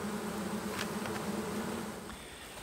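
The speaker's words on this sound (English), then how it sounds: "And the walls are covered with bees." Honey bees droning inside an open hive, a close, steady hum with a few bees darting by, easing slightly toward the end.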